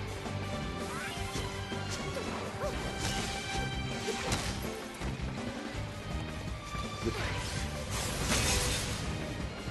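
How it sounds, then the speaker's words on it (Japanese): Buildings in the Gravity Rush Remastered video game smash apart into physics-driven debris, loud repeated crashes and crumbling impacts with whooshing rushes, dense and continuous across the scene. "こういったところでこう街が破片になって物理オブジェクトとして巻き込まれる"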